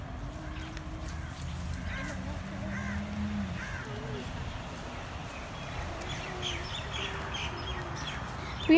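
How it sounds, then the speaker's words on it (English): Scattered bird chirps and short calls ring out over a steady low background hum, with a voice murmuring faintly underneath. "beautiful sound of birds like tweet tweet."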